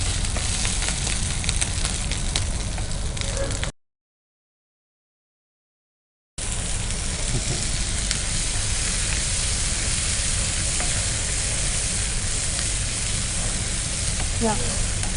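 Tomatoes frying in a pan for a tomato mushroom curry, a loud close continuous sizzle with crackling, cut by a few seconds of silence before the frying resumes just as strongly.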